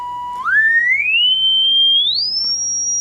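A steady sine test tone played through a horn compression high-frequency driver, starting around one kilohertz then sweeping smoothly upward in pitch over a few seconds to a high sustained whistle, loud and clean with no voices.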